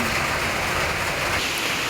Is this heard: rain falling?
yes